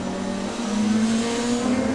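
A DTM race car accelerating hard at the Nürburgring during 2019 qualifying: a loud, sustained engine roar rising steadily in pitch, heard alone without commentary.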